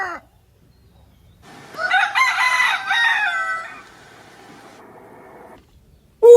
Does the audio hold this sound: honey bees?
no